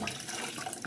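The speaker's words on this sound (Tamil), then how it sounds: "இப்போ இந்த பச்சைப்பயிருக்கு அப்படியே தண்ணி சேர்த்துருங்க." Water pours into a pot of cooking green gram in a brief, continuous splashing gush, close and fairly loud, with no voices.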